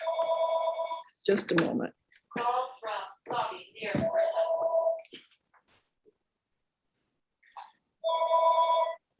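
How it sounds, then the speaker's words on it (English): Old-style telephone bell ringing in bursts at a residents' council meeting, one ring at the start and another at the end, with a person speaking in between. "It's the phone ringing when it's my turn to talk."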